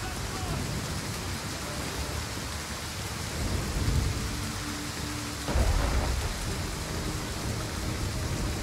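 Steady rain in the video game Total War: Pharaoh Dynasties hisses across the whole stretch, with a couple of low rumbling swells like distant thunder; no voices stand out.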